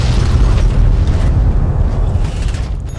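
A mini nuke detonates in Fallout 3, producing a loud, continuous low rumbling roar that fills the whole stretch and fades slightly toward the end.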